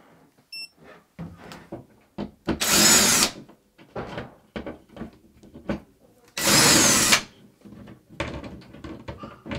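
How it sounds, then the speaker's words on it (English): A handheld power drill runs in two loud bursts of about a second each, set among clattering, knocking sounds of DIY work with tools and wood, with no talking. "We have the drill."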